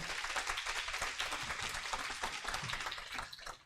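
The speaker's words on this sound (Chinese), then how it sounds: "我们拍手来欢迎他们" A church congregation at an anniversary joint worship service claps to welcome their third pastor and his wife, producing a dense, steady wave of applause that holds for several seconds before easing slightly at the end.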